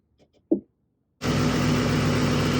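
A 2005-2009 Mustang GT 4.6 V8 starts up and settles into a steady, loud, broadband idle, preceded by a few faint clicks and a short thump.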